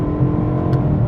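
A BMW M3 GTS engine revving while driving, a loud, close, steady mechanical roar heard from inside the car over a brief moment.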